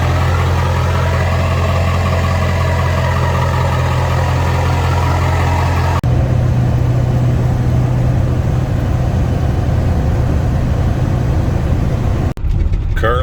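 A Ford F250 truck engine sitting unused for ten years runs steadily close by, a loud, continuous idle with a deep rumble that shifts slightly in tone partway through before a sudden cut near the end.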